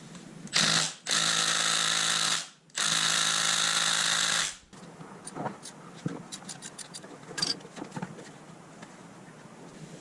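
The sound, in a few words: removing motorcycle fork pinch bolts with tool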